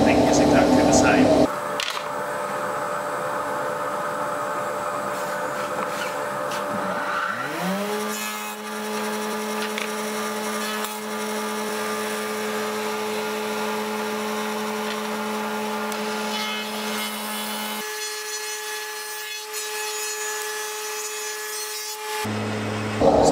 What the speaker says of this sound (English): While you've got them rebate cutters in, you can wind them down and do the rebates on the edges of the boards